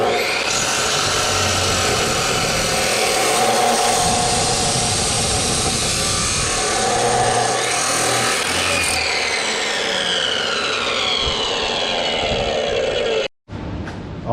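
A power tool saws through 1.5-inch galvanized steel pipe for a DIY dirt leveler, a loud continuous grinding whine close by that cuts off sharply near the end.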